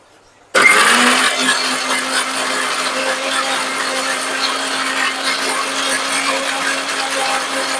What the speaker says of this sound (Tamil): இதில் ஊற்றி இதை அரைச்சிடலாம்